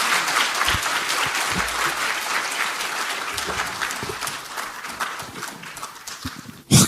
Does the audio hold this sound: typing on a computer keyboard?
no